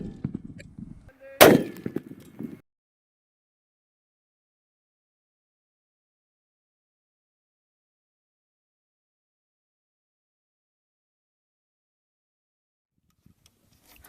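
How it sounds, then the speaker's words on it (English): A single sharp, loud .50 BMG armor piercing incendiary tracer shot fired at a six-cylinder engine block outdoors, preceded by brief talk and followed by a long stretch of near silence. "armor piercing incendiary tracers versus 6 cylinders."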